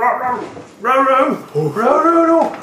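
A 10-week-old puppy gives a series of high, whining yips and whimpers, close and loud, in short bursts separated by brief pauses.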